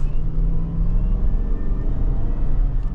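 A 2021 Chevrolet Suburban LT engine drones steadily from inside the cabin on a test drive, a loud, continuous low rumble with a faint high whine running through it and no talk.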